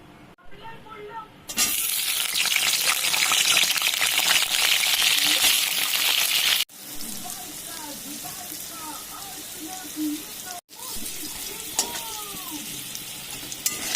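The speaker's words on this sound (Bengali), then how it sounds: "আলুগুলো আমি ভালো করে ভেজে নিয়েছি বন্ধুরা।" Potatoes fry in a pan with a loud, dense, continuous sizzle that starts abruptly and runs on, briefly cutting out twice, with faint voices in the later part.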